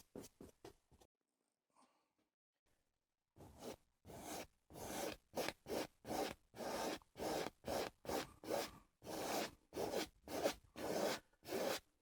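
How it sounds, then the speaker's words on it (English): A tool scrapes excess oil paint off a canvas in a quick series of rough strokes, a few at first, then after a pause more than a dozen close, evenly paced rasps with no talking. "We just want to scrape any of that excess off and then come back to it."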